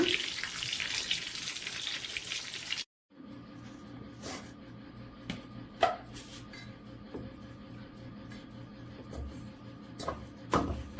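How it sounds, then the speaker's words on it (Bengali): Chicken frying in hot oil gives a steady, dense sizzle for a few seconds. The sizzle cuts off, then quieter kitchen sounds follow with scattered clinks and taps of utensils. "উল্টিয়ে পাল্টিয়ে চিকেন বেজে নিয়েছি তেল থেকে উঠিয়ে নেব"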